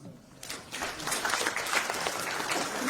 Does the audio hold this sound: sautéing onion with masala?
no